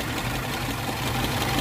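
Smooth, even idle from a 1994 Suzuki Katana 4x4 engine, a close, constant low hum and light vibration holding steady throughout without any voices.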